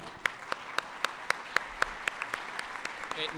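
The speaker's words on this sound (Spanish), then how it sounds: "Los aplausos" An audience applauds at a television word-game show, with sharp distinct claps standing out over a steady crowd patter that builds slightly toward the end.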